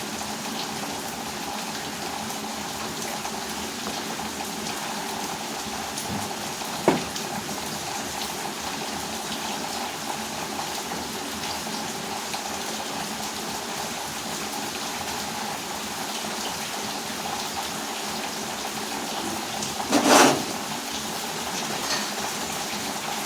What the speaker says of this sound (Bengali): গ্যাসের উপরেও জল পড়ছে।